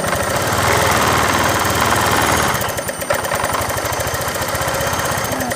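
Honda Vario 125 scooter engine with a rattling fault, running close and loud. A rapid metallic clattering sits over a steady idle throughout, with no talk.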